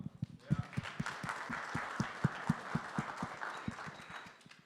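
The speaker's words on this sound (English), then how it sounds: "Let's clap it up for Mike, huh?" A crowd claps together, dense and steady, with sharp individual claps standing out near the front before the applause tapers off.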